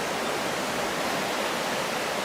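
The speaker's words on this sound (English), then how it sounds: "Look at this river. This is the Appalachians." A river in the Appalachians rushes in a steady, broadband wash of flowing water, close and continuous, with no voices over it.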